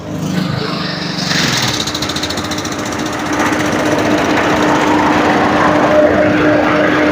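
A red 2017 Ford Figo Titanium car engine runs with a steady, even mechanical hum that builds slightly in loudness, heard alone without voices.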